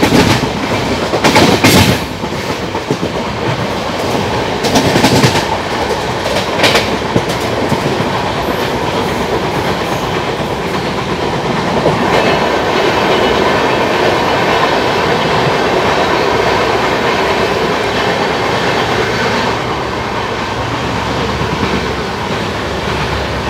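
Express passenger train running on rails, a steady loud rumble with rhythmic clickety-clack of wheels over rail joints and faint wheel squeal, heard close from on board with no talk.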